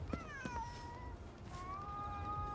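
A cat in a video game meows twice, two drawn-out falling cries separated by a short pause, heard fairly close over a low background hum.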